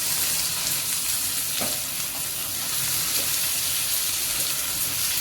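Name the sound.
sautéing tomato and capsicum in oil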